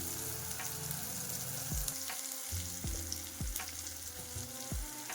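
Onion, tomato, garlic, cumin, mustard seed and turmeric fry in a pan, a constant sizzle with regular low knocks and scrapes of a spoon stirring against the cookware, close and moderately loud.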